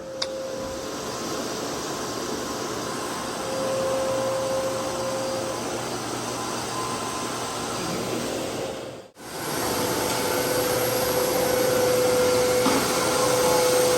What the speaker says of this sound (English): We got Bridget vacuuming